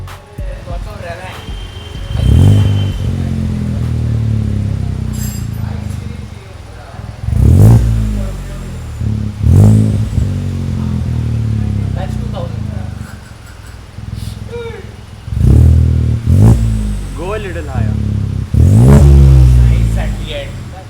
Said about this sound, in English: I really want to listen to the exhaust, so